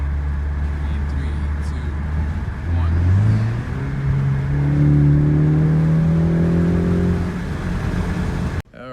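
A 2019 Ford Mustang accelerates hard down a straightaway on a night commute, its engine note climbing steadily through a gear change, heard loud and close from inside the car under a rising whir, with a voice also present.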